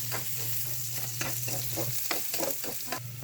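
Garlic sizzling in a hot pan for pork humba, a steady frying hiss with stirring scrapes and soft clatters throughout, close and moderately loud.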